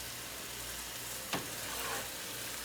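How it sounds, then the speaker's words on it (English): Ingredients for a hearty family soup sauté in a hot pan with a steady, even sizzle, broken by one brief scrape or stir near the middle, and no voices. "we're just gonna saute this"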